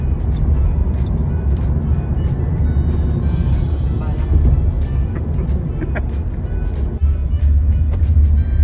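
Busy street traffic in Bangkok, Thailand, roars as a steady, loud, close engine drone with vehicles passing and faint clicks over it, and voices can be heard faintly underneath.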